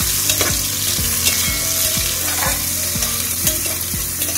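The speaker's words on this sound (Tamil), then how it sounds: "சேர்த்து நல்லா கிண்டி வச்சுருவோம்." Vegetables for a vegetable brinji stirred in hot oil in a pan, a loud close sizzle broken by regular scraping strokes of a spoon about every half second, no voices.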